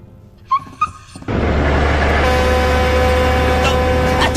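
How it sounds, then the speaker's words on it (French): A small dog in a French-dubbed Inazuma Eleven anime episode gives two short whimpering yelps, quickly drowned by a loud, steady rumble like a passing vehicle. "Oh, regardez, un petit chien."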